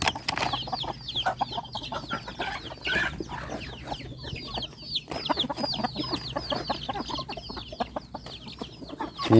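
A flock of chickens clucks continuously, with many overlapping short calls, at moderate distance and steady loudness, and no one talking.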